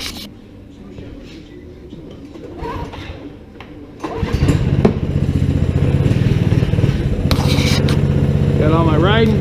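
Small Polaris 120 snowmobile engine starting up and settling into a steady, loud idle buzz after about four seconds, with quieter handling noises before it fires.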